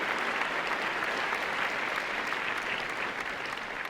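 A church congregation applauds during a Spanish-language service, steady moderately quiet clapping from many hands sustained for several seconds without speech.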